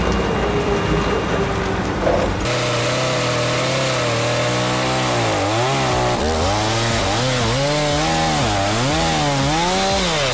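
A big-bar chainsaw bites into a large Douglas fir trunk, its loud, close engine snarl rising and falling in pitch as the cut loads and frees, sustained for about ten seconds.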